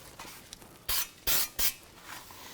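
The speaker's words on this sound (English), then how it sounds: "You may even spray some on a rag and just kind of wipe down that backing plate" Brake cleaner is sprayed onto a rag during a rear brake job on a 2010–2017 Chevy Equinox: three short, sharp hissing aerosol bursts close by, separated by brief pauses, with no talking.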